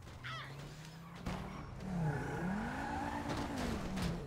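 Car engine in GTA 5 Online rising and falling in pitch as the vehicle drives and accelerates, a steady mid-level drone with a bump in loudness partway through, no talking.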